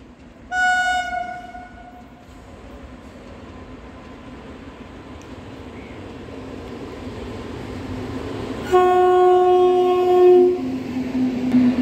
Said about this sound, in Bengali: দেখতে পাচ্ছ একটা মেল আসছে